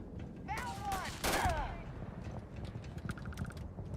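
Enemy gunfire rings out in a modded Starfield fight, with a loud cluster of rapid shots mixed with whistling tones early on, then fainter scattered pops.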